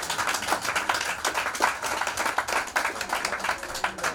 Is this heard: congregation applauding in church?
yes